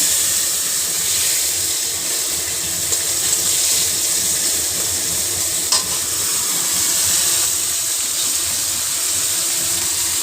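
Radhuni, black cumin and green chilli frying in hot oil for a bottle gourd leaf curry, a steady close sizzle and hiss with a faint stir, no talking.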